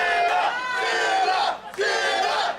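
A loud crowd roars and cheers in a wrestling video game, a dense sustained wall of voices that dips briefly, then surges back.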